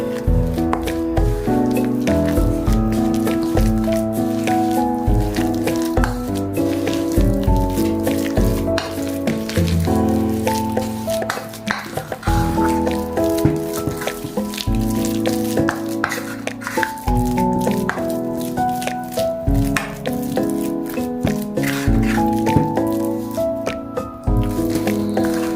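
A snack mixture is stirred in a pan with wet squishing and a steady sizzle as it cooks. A spoon scrapes and thumps in a regular rhythm, loud and close, with no voices over it.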